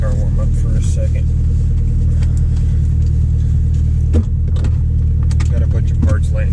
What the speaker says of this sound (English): Let my car warm up for a second.